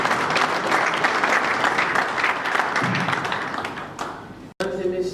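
An audience at a formal government ceremony breaks into loud, sustained clapping for a minister, dense and even at first, then thinning and fading toward the end, with a brief cut and a voice coming in over it.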